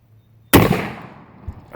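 A single sharp, loud blast from a New England Arms 10-gauge shotgun firing a black powder load, close by, with a long rumbling decay and a faint knock afterward.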